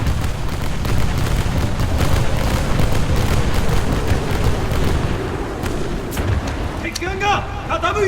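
Naval artillery fires repeatedly in a warship video game during a torpedo boat battle, a dense run of booming shots and crackling bursts over a constant roar, with voices talking under it.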